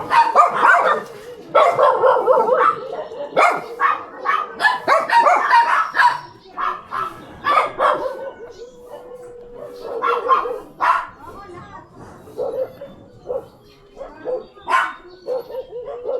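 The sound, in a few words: dogs barking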